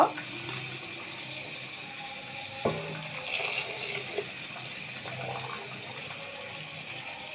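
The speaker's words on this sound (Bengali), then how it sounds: "এর মধ্যে এখন গরম পানি অ্যাড করবো" Hot water being poured into a cooking pot of spiced khichuri with ginger, cumin and garam masala powder on the stove, giving a soft watery rush with faint sizzling and a few light knocks.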